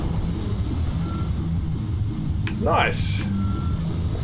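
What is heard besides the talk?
dump truck reversing beeps in Construction Simulator video game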